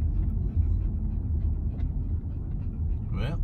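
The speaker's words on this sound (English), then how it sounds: "that heavy breathing is the dog" A dog pants heavily and rapidly close by, a steady rasping breath over a low, continuous outdoor rumble.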